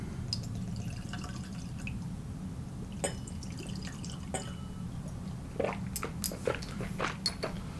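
Hven organic Swedish whisky is poured into glasses, giving a quiet trickle with faint drips and soft clinks over a low steady room hum, close but subdued.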